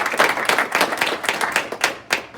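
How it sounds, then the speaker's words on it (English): A small audience at a black belt graduation claps for a performer, a brisk, fairly close patter of hands that continues briefly without cheering or talk. "So let's make sure we give Robbie a round of applause."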